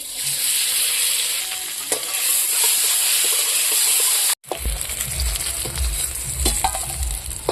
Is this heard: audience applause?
no